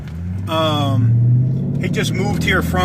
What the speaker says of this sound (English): Car's running.